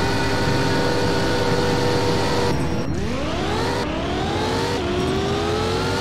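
Car in the Roblox game Driving Empire accelerating hard, a loud close engine whine climbing in pitch through three gear shifts, each shift dropping the tone before it rises again.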